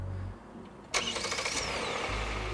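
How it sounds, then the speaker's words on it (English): Hyundai Palisade gasoline engine starting by wireless remote start, a quick cranking catch followed by a steady low idle rumble, heard close and alone. "this is what a Hyundai Palisade gasoline sounds like"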